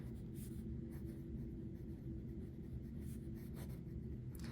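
A fountain pen writes on Clairefontaine graph paper, giving soft, faint scratchy strokes over a low background rumble, with no talking.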